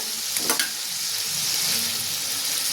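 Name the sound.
coconut paste frying in hot pan with tomato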